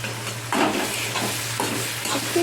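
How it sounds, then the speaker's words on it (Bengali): Spices fry in a pan with a splash of water while being stirred for a potato curry with asafoetida, soft sizzling under a few scraping spoon strokes, close and fairly quiet, with a low steady hum beneath. "একটু একটু করে অল্প অল্প করে যেন জল দিয়ে একটু নেড়ে নিচ্ছি"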